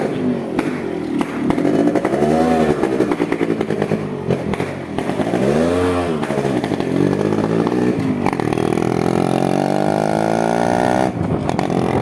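A Yamaha RX 135 motorcycle, a two-stroke, is ridden with its engine revving loudly up and down through several rising and falling sweeps, close and continuous throughout.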